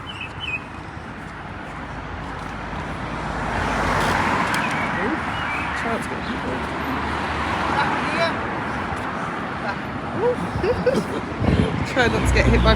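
Street traffic in Middlesbrough, with cars passing steadily at moderate distance and a broad wash of road noise that swells and fades, while a voice speaks over it intermittently.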